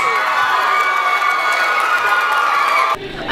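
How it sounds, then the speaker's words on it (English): An audience at an under-18 Open Mic UK area final cheers and applauds the four national finalists, a loud sustained roar of clapping and shouting that cuts off abruptly near the end. "Round of applause please for all four national finalists."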